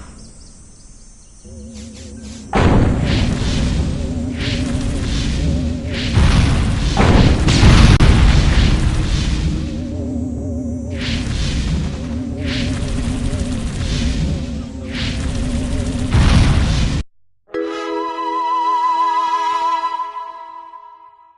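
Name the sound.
weapons fire and explosions in the video game Destroy All Humans!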